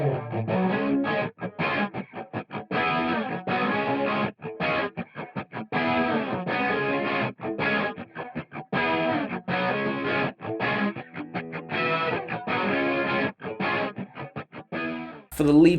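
Crunchy overdriven electric guitar with humbucker pickups through a Boss Power Stack pedal in crunch mode, with treble lightly boosted, bass trimmed and the part double tracked, playing steady, loud rhythmic chords that run continuously before a brief burst at the end.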